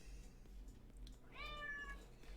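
A cat gives a single rising-then-falling meow partway through, close but soft, over a steady low indoor hum. There is no talking.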